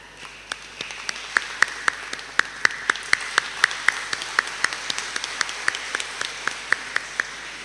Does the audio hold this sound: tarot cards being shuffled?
no